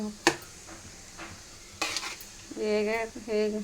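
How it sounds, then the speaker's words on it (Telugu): A soft sizzle of frying in hot oil, broken by sharp clinks and scraping of a spoon stirring in a pan. "తాలింపులు వేగుతున్నాయి."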